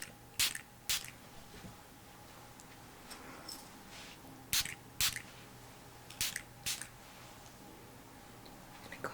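Vanilla-scented aura spray misted from a pump bottle in a quiet room, about ten short, crisp spritzes spaced irregularly, some in quick pairs, close and clear against near silence.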